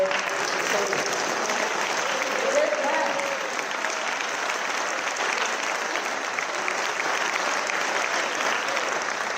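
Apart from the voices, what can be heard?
audience applause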